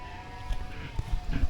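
Goats bleating at a petting zoo in a safari park, a few short bleats close by against a steady background hum, with brief low thumps.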